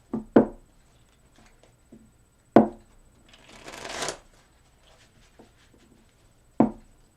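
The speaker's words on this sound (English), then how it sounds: "Shuffle them 3 more times." Tarot cards are shuffled in a quiet room: one brief riffling burst, set between a few sharp taps of the deck on a table.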